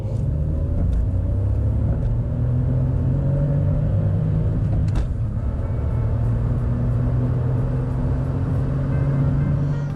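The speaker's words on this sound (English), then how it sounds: "we should probably do a 30 to 70 sprint. Let's see how much quicker this Up GTI is compared to a regular Up" A VW Up GTI on a motorway accelerates hard in a 30 to 70 mph sprint, heard from inside the cabin as a low, steady engine rumble and road roar that holds through the clip.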